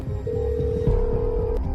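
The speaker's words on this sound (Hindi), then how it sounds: "हाँ राणा सा, मारे को लग ही रहा था कि थारा फोन आवेगा।" A telephone call sound effect in a Hindi audio horror story: a steady electronic ringing tone holds for about a second over a low hum and background music.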